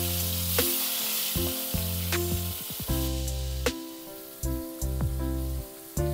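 Eggplant and potato pieces frying in hot oil with asafoetida and turmeric, a bright, loud sizzle under sustained background music, with a few sharp clinks and stirs from the pan.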